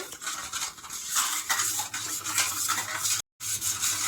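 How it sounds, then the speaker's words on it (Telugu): A spoon stirs sugar into watermelon sharbat until it dissolves, a steady close scraping and swishing against the glass that runs continuously and stops for a brief moment near the end. "బాగా కలుపుకోవాలండి చక్కెర కరిగేంత వరకు"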